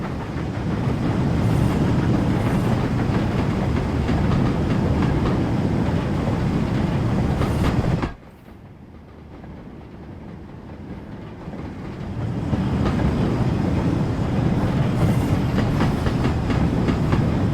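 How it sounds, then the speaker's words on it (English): Train coaches in Train Simulator rumble steadily and clatter rhythmically over rail joints. The noise dips for a few seconds midway, as if passing into a quieter stretch, then swells back to full clickety-clack. "they do a really nice clatter sound, rail joints"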